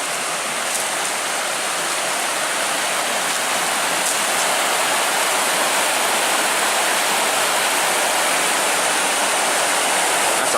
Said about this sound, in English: A nice little waterfall area here. This is the rush of water I was hearing.